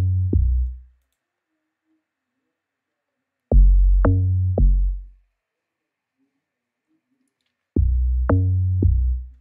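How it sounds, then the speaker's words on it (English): A log drum bass preset from the Fruity DX10 synth plays short, deep, booming tuned thumps in three groups of one to three notes, separated by silence, loud and close with quick decays. "Log drum sounds like this."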